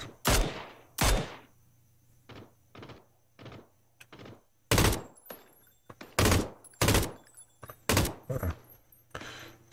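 Gunfire from the video game PUBG comes as a series of sharp, punchy shots with bursts and gaps between them, some nearer and louder than others, with no talk.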